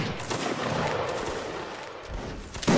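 A line of muskets fires a volley in a Napoleonic-era line battle video game, a dense, continuous crackle of many overlapping shots that builds into a sustained rattle, with no talk over it.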